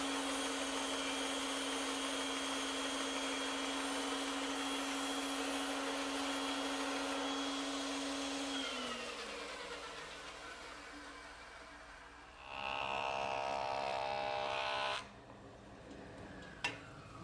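Bandsaw cutting a tapered wooden part in a woodworking shop, a steady whining motor hum that winds down, then a brief louder buzzing cut before settling again.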